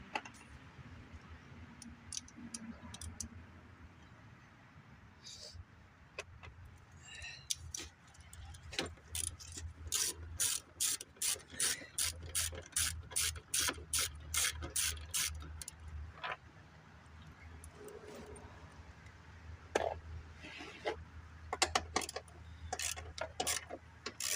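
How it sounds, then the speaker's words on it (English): A 10mm socket and ratchet turning a fastener on a 2018 Wolf RX50 scooter, a long run of rapid, evenly spaced ratchet clicks close by, with scattered clinks and tool handling before and after. "10mm ratchet, or 10mm socket and ratchet."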